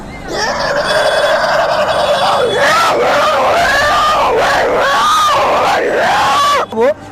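A man imitating squealing pigs, loud, continuous shrill wavering squeals rising and falling for several seconds, ending abruptly.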